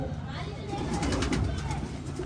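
Pigeons coo softly in a low, murmuring drone among the birds while someone talks over them close by.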